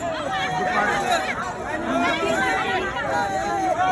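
Dense crowd chatter fills the air at the Pandharpur pilgrimage, a steady close babble of many overlapping voices with no pauses.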